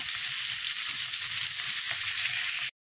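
Teasel gourd (kakrol) bhaji fried and turned over in a pan, giving a steady close sizzle with soft stirring scrapes until it cuts off abruptly.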